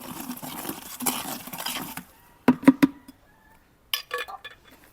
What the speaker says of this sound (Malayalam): ചാരത്തിൻ്റെ കൂടെ ഒഴിച്ചു ആദ്യമേ ഒന്ന് ഇളക്കി നല്ലപോലെ കൊടുക്കാം